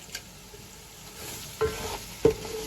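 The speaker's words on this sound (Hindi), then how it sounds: "और इसे अच्छे से भून लेते हैं मसाले को" Whole garam masala being dry-roasted and stirred in a pan for aloo matar pulao, a faint low sizzle with soft scraping and two brief louder stirring knocks near the end.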